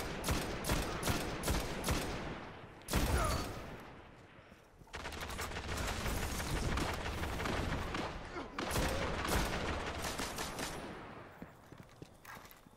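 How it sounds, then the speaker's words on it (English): Machine gun fire in Destiny multiplayer on Xbox One: rapid bursts of automatic shots, loud and close, broken by short pauses and a few heavier blasts, with some talk underneath. "I heard machine gun fire from my team"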